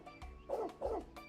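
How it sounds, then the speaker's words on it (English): A small lovable dog named Alphonse barks in the game Trails Beyond the Horizon, two clear bow-wow barks with softer yips around them, fairly quiet. "that's a lovable dog"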